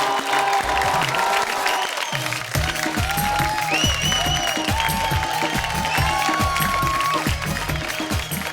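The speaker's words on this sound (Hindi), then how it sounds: "तालियां" A television studio audience breaks into sustained, dense applause mixed with cheering, loud and continuous throughout, with some musical tones riding over the clapping.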